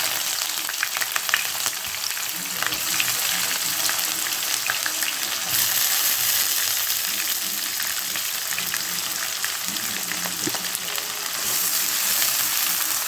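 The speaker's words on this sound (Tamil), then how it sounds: "வெங்காயம் நல்லா ப்ரௌனாக வதங்கணும்." Onions with curry leaves sautéing in hot oil for a potato and brinjal kara kuzhambu, a steady dense sizzle with occasional stirring scrapes running close and loud throughout, no voices.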